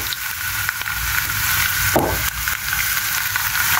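Spice paste with turmeric, chili powder and salt frying in a pan, a steady loud sizzle running throughout with a brief scrape of stirring midway, no talking.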